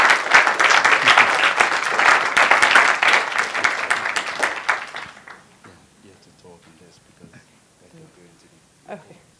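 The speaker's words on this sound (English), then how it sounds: "let's give Amy a round of applause" Audience applause fills a public meeting on Bermuda's energy future, dense and loud for about five seconds, then thinning into scattered claps and low murmuring before a lone clap near the end.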